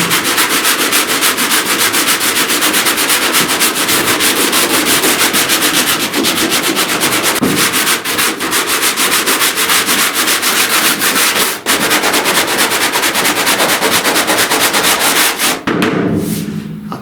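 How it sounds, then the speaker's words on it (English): Body filler is sanded by hand over a truck cab corner dent repair, giving a steady, loud, rapid back-and-forth scraping that runs unbroken and close, stopping briefly near the end. "I now need to sand down here, feather this on in"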